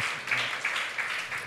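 An audience at a stand-up comedy show in Solo applauds a comedian, a sustained wash of clapping that swells in a few gentle waves.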